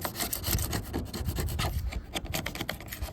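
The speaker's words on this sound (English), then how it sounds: "Literally just scrape as you go." A knife blade scraping old material off the hull of a jon boat, a continuous dense rasping scrape with steady rhythmic strokes, close and fairly loud throughout.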